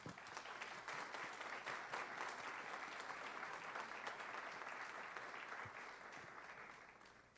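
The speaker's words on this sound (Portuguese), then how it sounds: "eu peço uma salva de palmas" Sustained audience applause at a homeopathy conference in Brazil, a full, even wash of clapping from a room of people that holds steady for several seconds before easing slightly.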